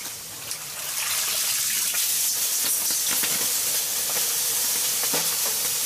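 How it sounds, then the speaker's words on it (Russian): Cold water hits hot stones on a KTs-1 Gravitsapa sauna stove, bursting into a loud, sustained steam hiss with crackling sizzles, close up and heard alone. "но я лью прям холодной воды"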